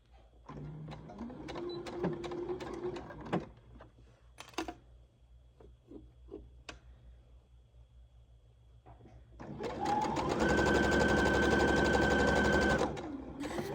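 Sewing machine stitching around the pocket of a Lou Lou wrap dress, with back stitching at the square markings: short bursts of clatter and handling taps early on, then one loud, steady run of stitching near the end.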